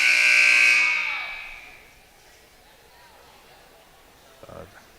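A loud electronic buzzer sounds at an indoor high school bocce home game against Halifax, a sustained harsh tone that fades out over about two seconds, followed by quiet room noise and a few faint knocks.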